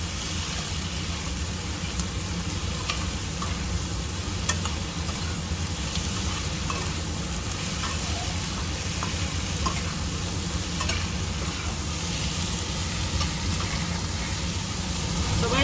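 Tomatoes frying with masala in a pan for Moglai chicken, giving a dense, continuous sizzle and crackle with faint stirring, heard steadily and close throughout with no talking.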